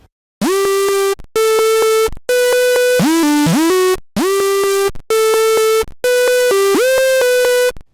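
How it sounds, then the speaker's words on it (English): A bright, buzzy Spire synth patch roughened by bit-reduction distortion plays a run of sustained notes with pitch glides and short gaps. It sounds loud and close, with nothing else heard. "The first effect in the chain is bit reduction."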